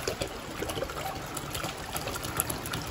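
One litre of water pouring into a container for a homemade household mixture: a steady, close trickling splash that continues without a break.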